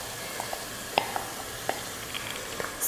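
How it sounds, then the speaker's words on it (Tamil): Marinated prawns sizzle in hot masala in a pan for prawn biryani, a faint, even frying hiss with a few light taps and scrapes of a spoon, close by and without speech. "அடுத்து நம்ம இறாலை சேர்த்துடலாம்"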